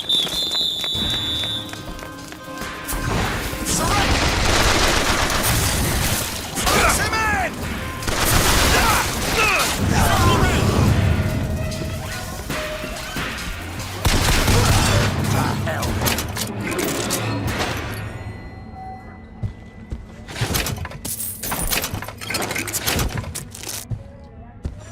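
Gunfire and explosions from Bioshock Infinite ring out in dense, loud bursts with mechanical clatter through most of the span, thinning into sparse sharp shots near the end, with shouting voices mixed in.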